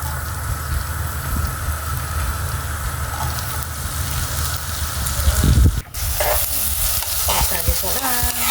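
Garlic and onion sizzle in hot oil in a pan, a dense, continuous crackle heard up close, broken by a brief stirring clatter and then settling back into a steady fry.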